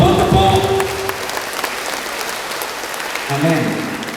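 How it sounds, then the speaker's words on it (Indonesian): A church congregation at a Catholic revival service claps together, a broad, steady wash of applause under a brief spoken voice at the start and returning near the end. "kalau mau tepuk-tepuk"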